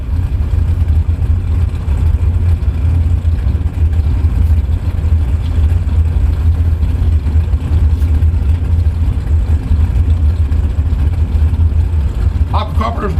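Drag racing car engines fitted with classic Orla mufflers rumble loudly and steadily, a deep continuous drone at a bracket race track, with an announcer talking over it.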